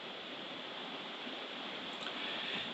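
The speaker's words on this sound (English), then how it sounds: "I don't know whether you can hear the rain in the background." Steady, even hiss of rain falling, constant and moderately loud throughout with no gaps, a continuous wash of noise.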